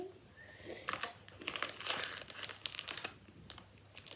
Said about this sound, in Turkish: Bu paketi de açalım.